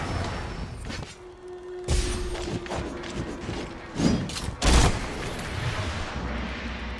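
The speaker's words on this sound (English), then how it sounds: "weapon fires off slinger ammo by the shedload" In the video game Monster Hunter World: Iceborne, a light weapon fires slinger ammo in heavy bursts. A few loud, booming blasts land near the middle of the clip against a steady background rumble.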